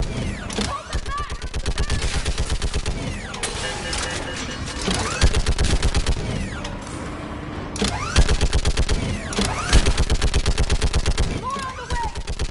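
Rapid machine-gun bursts and gunfire from the Mass Effect 3 video game, loud repeated volleys in several sustained stretches, mixed with game effects.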